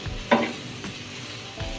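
Bitter gourd and shrimp stir-frying for a Bengali uchhe chingri dish, a soft sizzle with a couple of sharp spatula scrapes against the pan, close and brief.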